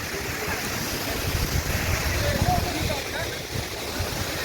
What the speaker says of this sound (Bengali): রাস্তার এপারে এখানেই জল ছিটকে আসছে, পুরো এলাকা জলে জল আছে